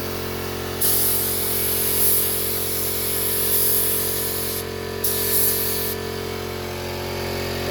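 A spray gun hisses continuously while applying 2K primer, in bursts with a brief gap, over a constant low drone of an air compressor running close by throughout.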